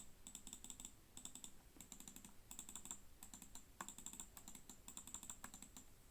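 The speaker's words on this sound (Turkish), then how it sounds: "Klik sesleri de hani e, duyduğunuz gibi bir miktar rahatsız edici seviyede." An A4-Tech FG10 2.4GHz wireless mouse has its buttons pressed in quick bursts of sharp, light clicks, repeated steadily throughout at close range and fairly faint, with no talking.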